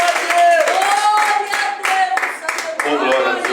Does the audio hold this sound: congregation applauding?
yes